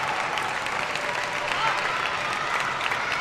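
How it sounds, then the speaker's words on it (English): Crowd at a 2025 Asian table tennis semi-final between Wang Chuqin and Tomokazu Harimoto applauding and cheering, a steady wash of clapping and crowd noise at moderate level. "Crowd getting mad"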